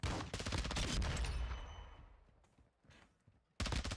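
Rapid bursts of gunfire from a Call of Duty prisoner rescue match crackle in dense, loud volleys, fade into scattered distant shots, then a sharp burst returns at the end.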